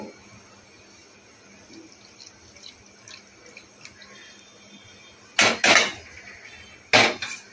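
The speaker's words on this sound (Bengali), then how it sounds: "বাকি দুধটা এর মধ্যে ঢেলে দেবো।" Remaining milk poured into a pot for doodh shemai, a Bengali milk dessert, in two short splashing pours near the end after quiet kitchen clatter.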